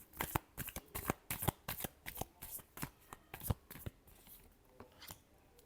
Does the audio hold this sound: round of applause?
no